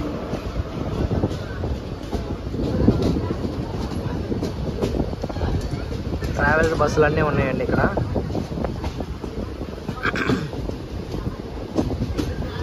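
Saptagiri Express running between Chennai Central and Tirupati behind a WAP-7 electric locomotive, a steady rumble and rhythmic rail clatter filling the cabin, with a voice talking over it throughout.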